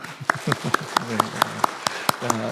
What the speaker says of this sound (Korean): 우리 할렐루야 찬양대 수고하였다고 우리 한번 박수 한번 드릴까요?